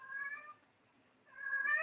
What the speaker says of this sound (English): I hear a meowing kitty.